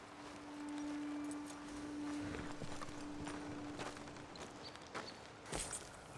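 Horses walking in the Red Dead Redemption 2 video game, soft rhythmic hoof clip-clops at a slow pace, fairly quiet under a low steady hum, a couple of louder steps near the end.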